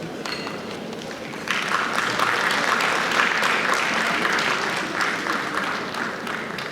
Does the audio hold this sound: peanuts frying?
no